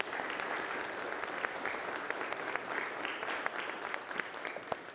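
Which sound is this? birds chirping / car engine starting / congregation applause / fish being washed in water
congregation applause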